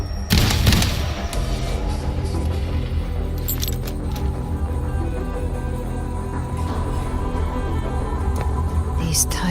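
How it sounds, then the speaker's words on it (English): Gunfire in a video game: a sharp, loud burst of shots near the start, then a steady, busy game backdrop that continues under everything. "Gunfire!"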